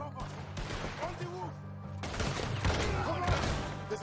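Gunfire in the video game Red Dead Redemption 2 after an accidental shotgun discharge, with a burst of overlapping loud shots and clatter amid chaotic game sounds and brief voices.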